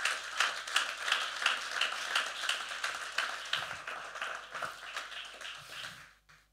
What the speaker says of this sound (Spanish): Dele ese aplauso al Señor Jesucristo.